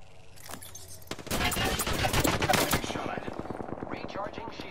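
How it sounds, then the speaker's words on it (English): Enemy gunfire in Apex Legends: dense bursts of rapid automatic shots, loud and close, with a steady rattling rhythm that continues to the end. "The enemies are shooting at me."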